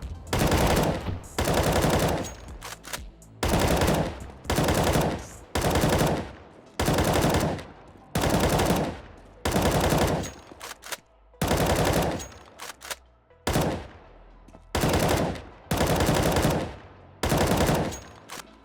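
Rifle fire in a first-person shooter on a 128-tick server, coming in repeated full-auto bursts of about a second each, loud and close, separated by short pauses and running throughout.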